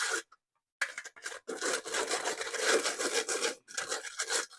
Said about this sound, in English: So now we just need to sift those together.